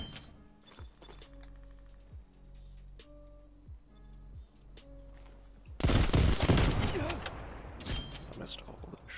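Gunfire in Call of Duty Black Ops Cold War: scattered game sounds and single shots at first, then a loud, dense burst of rapid automatic fire in the second half.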